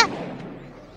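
A shotgun blast in the Gmod video game during a dinosaur hunt: one sharp, loud shot at the start that trails off into a fading rumble, with no talk over it.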